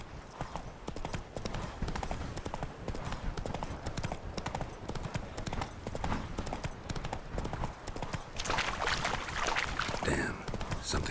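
Steady clip-clop of the horse Roach's hooves in The Witcher 3, a brisk continuous rhythm over ambient game sound, with a brief burst of brighter noise near the end.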